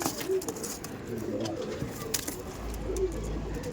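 Miraboli pigeons coo softly in a loft: a couple of low, brief coos rise over a murky background of rustling and room noise, with faint voices nearby.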